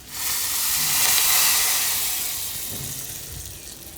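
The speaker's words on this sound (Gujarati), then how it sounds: "હવે આ વઘાર આપણે દાળ ઉપર નાખી દઈશું આમાં" Hot spiced tadka with curry leaves and asafoetida is poured onto dal, setting off a sudden loud hissing sizzle that swells, then slowly fades into a softer bubbling fizz.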